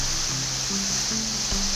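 Steady, loud rushing of a waterfall in Brecon Beacons National Park, heard close up as a continuous broadband roar, with faint low tonal hum mixed in.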